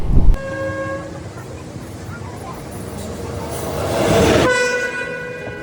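Katwa–Rampurhat MEMU special train running, a steady rolling rumble of the carriages with a loud horn blast at the start and another near the end, heard from inside the coach.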